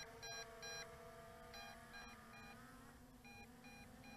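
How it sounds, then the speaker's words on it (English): Repeating electronic beeps from the low-voltage warning on an MJX Bugs 3H brushless RC quadcopter drone sound in short paired bursts over a steady motor whine, faint and regular. "That is the LVC warning beeping"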